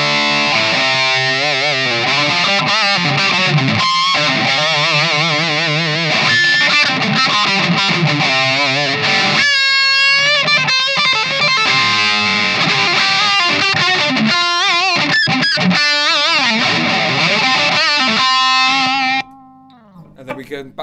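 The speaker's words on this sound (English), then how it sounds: "just step on the distortion pedal next" Electric guitar played through a Lindo Mind Control distortion pedal, a continuous loud, saturated lead line with sustained bending notes and fast runs, ending abruptly near the close.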